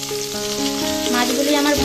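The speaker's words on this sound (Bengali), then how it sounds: "মাছগুলিকে লাল লাল করে ভেজে নিয়েছি" Gorui (lyata) fish frying steadily in hot oil, a continuous close sizzle with faint stirring, no one talking.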